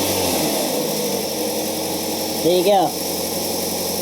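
A car engine idles steadily with a vacuum gauge attached to test it, a low constant hum with a faint fan-like whir, while someone talks briefly near the end.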